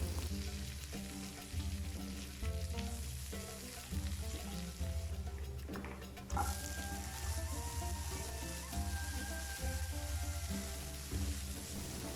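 Curry leaves, shallots and sliced garlic sizzle and crackle steadily in hot tempering oil for a South Indian breakfast dish, a continuous close frying hiss with a sharper burst midway and no talking.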